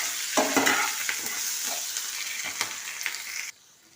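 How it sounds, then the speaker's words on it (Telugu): Ginger, garlic, green chillies and curry leaves frying on a low flame, a steady close sizzle with a few stirring scrapes and clinks, cutting off abruptly near the end. "అల్లం, వెల్లుల్లి, పచ్చిమిరపకాయలు ఇవి కూడా వేగనివ్వాలి. అలాగే కరివేపాకు కూడా సిమ్లో వేగనివ్వాలి."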